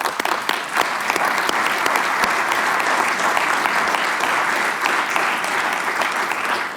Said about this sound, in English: give you a very warm round of applause